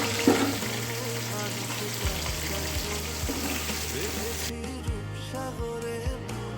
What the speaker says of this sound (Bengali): এবার সর্ষের তেলে চিনিওটাকে ভেজে নেয়